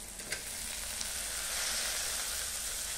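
Boiled drumstick pieces go into a pan of frying onions, giving a steady, close hiss of sizzling oil with a couple of faint stirring clinks near the start and no talking.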